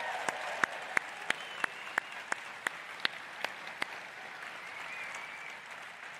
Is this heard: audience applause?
yes